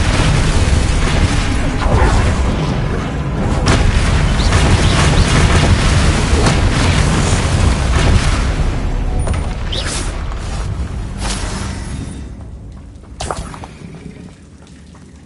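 Spell combat in Hogwarts Legacy on PS5, the Expelliarmus disarming spell cast amid a dense, loud wash of magical booms, crashes and mechanical clatter, with a few sharp bright bursts toward the end as the din thins out.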